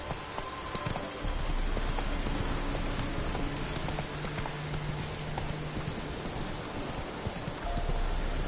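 Roach, Geralt's horse in The Witcher 3, with hoofbeats clopping steadily amid a heavy hiss of rain, moderately close and without talk.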